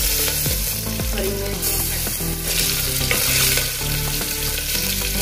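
Garlic cloves and green chillies fry in hot oil in a pan, giving a steady, busy sizzle with occasional stirring scrapes and clinks, close and fairly loud, without any voices.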